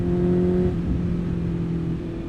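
A 2023 Honda CBR 650R with a cable throttle revs close by, a steady loud inline engine drone that shifts pitch partway through as the throttle eases, with no talk.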